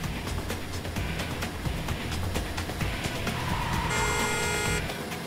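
A car accelerates hard during a getaway from the mafia, with a loud, close engine roar. Rattling and knocking continue throughout, and a brief tonal whine sounds near the end.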